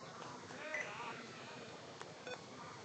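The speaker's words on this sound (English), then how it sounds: "Why is my computer making noises now?" A computer sounds a few short electronic beeps, near 2.0 and 2.3 seconds, under the steady commentary and ambient noise of a baseball game broadcast, with a voice talking throughout.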